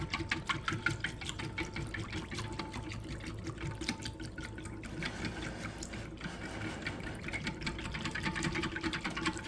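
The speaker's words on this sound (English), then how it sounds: "I'm going to add 1 tablespoon of that broth to the 4 cups of water and mix that in." Water splashes and stirs steadily in a container as broth is mixed into it, a continuous close swishing and sloshing with no voices.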